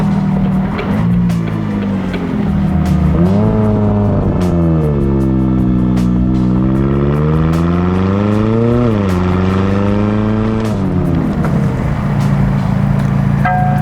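A 2018 McLaren 570S Spider supercar engine drones loudly and steadily while driving, its pitch rising and falling through gear changes and acceleration, continuous with no talk.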